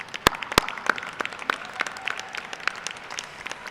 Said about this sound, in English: let's give a round of applause to these individuals who have supported you.